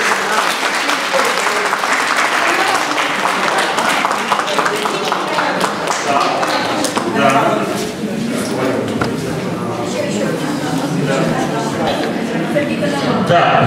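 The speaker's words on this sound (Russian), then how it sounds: "Аплодисменты, друзья!" A concert audience at a talent show gives loud, sustained applause, a dense wash of clapping that continues throughout, with a voice briefly heard over it.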